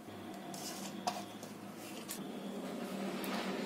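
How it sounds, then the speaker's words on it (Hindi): Dry lentils pour into a metal pressure cooker, a faint scattering of light rattles and small clicks near the microphone, with one sharper tap along the way. "उसमें डाल देते हैं हमारी दाल।"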